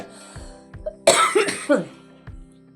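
A person with a fever coughs in a cluster of three or four rough, close coughs in a quiet kitchen, between faint low thumps.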